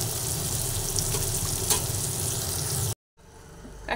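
Tomatoes, green chillies and other vegetables frying together in a pan give a loud, dense sizzle for about three seconds before a sudden cut to quieter crackling.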